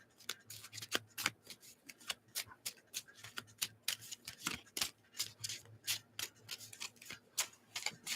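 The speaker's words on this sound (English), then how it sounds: "I'm just gonna give this a quick shuffle" A deck of oracle cards gets a quick shuffle, heard as soft, close, rapid flicks and taps in a loose rhythm, quiet with no talk.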